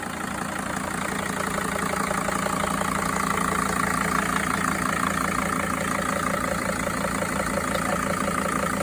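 A 2006 T1N Sprinter van engine idles steadily in the open engine bay, a close, even diesel clatter with a constant low rumble and no talking.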